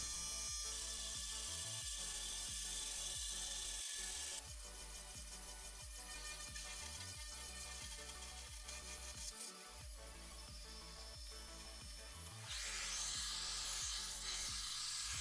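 A 3018 DIY CNC machine mills Perspex with a 3mm flat end mill at a 0.5mm pass, producing a faint, steady mechanical whine with repeated rhythmic stepping pulses and shifts in pitch.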